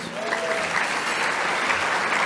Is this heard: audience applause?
yes